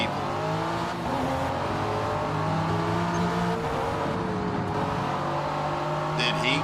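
Racing cars in the Forza video game, a Ferrari among them, roar steadily with layered engine drone and passing revs, under a voice talking throughout.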